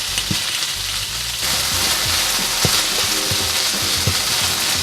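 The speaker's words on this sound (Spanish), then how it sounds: "Vamos removiendo todo el rato mientras se va friendo" Steady, loud sizzling of minced meat frying in a pan for Japanese croquettes, with scraping and clinking of stirring throughout and no talking.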